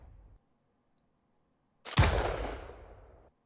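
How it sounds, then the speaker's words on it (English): A single sharp blast in the Starship Troopers: Extermination video game, from an explosion and a magnum gunshot, hits loud after near-silence and trails off over about a second in a rumbling decay. "An explosion, and then a magnum."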